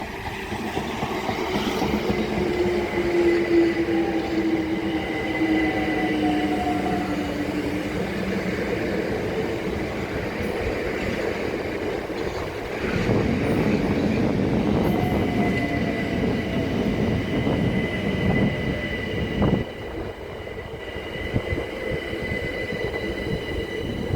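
A Class 376 electric multiple unit runs through Grove Park station on the South Eastern Main Line, a steady rumble of wheels and rail noise with faint squeals and clatter holding for the whole stretch, close and loud without voices.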